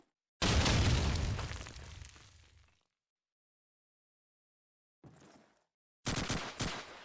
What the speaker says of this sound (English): A couple of nades flying.